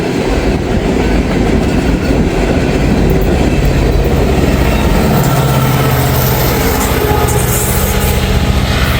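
A freight train with a DPU locomotive passes close by, filling everything with a loud, unbroken rumble of wheels clattering on rails and heavy rolling noise from start to finish.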